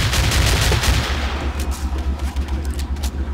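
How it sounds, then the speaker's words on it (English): A shotgun is fired rapidly in the Battlefield 2 video game, with a quick cluster of loud blasts at the start and then a rumbling, pulsing tail of game noise. "That's why I love this shotgun, just because you could rapid fire it."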